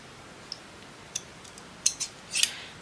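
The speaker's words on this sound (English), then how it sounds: "Let's cut this in half." Scissors cut a piece of craft paper in half in a few short, crisp snips close by against a quiet background, with no voices.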